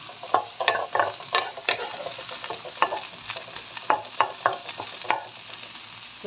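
Dried anchovies (dilis) fry in a little oil in a pan while a utensil stirs them, giving a string of close scraping strokes over a soft sizzle, with no talking.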